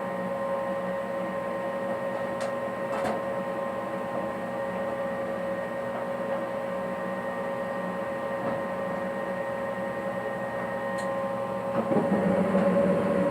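A home gas furnace burner lights after a fresh flame sensor is fitted. A steady mechanical hum with a couple of faint ticks runs throughout, then the burner catches with a soft, louder whoosh near the end.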